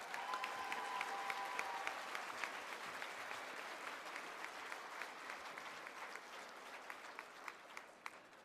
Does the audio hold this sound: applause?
yes